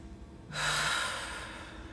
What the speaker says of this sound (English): That intentional breathing.